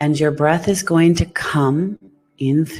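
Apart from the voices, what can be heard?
No everyday noise stands out behind the speech.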